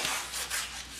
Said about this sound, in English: quickly move your hand with the sandpaper over your primed surface